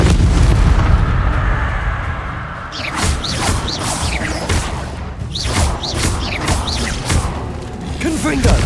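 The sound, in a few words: Confringo fire spell explosions in the video game Hogwarts Legacy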